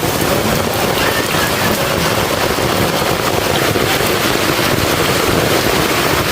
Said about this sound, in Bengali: প্রচন্ড বৃষ্টি হচ্ছে, আমি ছাতার সাহায্যে আমগুলো তুলে নিচ্ছি।